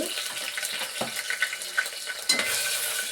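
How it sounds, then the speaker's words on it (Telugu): Steady sizzling of onions frying with mushrooms, kasuri methi and ginger-garlic paste in a pan, broken by a few stirring scrapes and clinks, close and fairly quiet. "ఇప్పుడైతే ఆనియన్స్ కూడా వేసుకుంటున్నాను."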